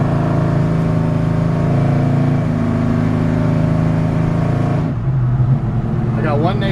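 A loud 1966 Chevy C-10 Stepside hot rod pickup engine rumbles steadily while driving through a neighborhood, heard from close by, with a gear change and a brief dip in tone near the end.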